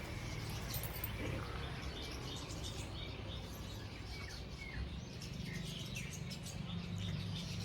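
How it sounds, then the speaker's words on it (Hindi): Small birds chirp and tweet outdoors on a sunny, breezy day, scattered calls faint against a steady, dense background hiss of wind and ambient noise, with no voices. "चिड़ियाँ चों चों चों चों कर रही हैं बस"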